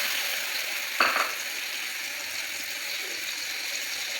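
Ginger garlic paste hitting a spoonful or two of hot oil for pav bhaji, opening with a short sharp sizzle burst and settling into a soft, steady frying hiss, close and alone.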